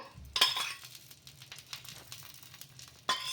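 Oil sizzles and crackles on a hot pan of dosa batter made from leftover rice, with a soft steady frying hiss and a couple of sharper clattering bursts from a utensil near the start and end.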